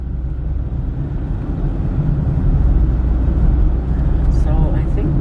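Steady low rumble of a car driving along a road near a campground, loud and continuous from inside the vehicle, with faint voices underneath.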